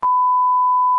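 A single steady censor beep, a pure tone held for about a second, loud and isolated with no voices around it.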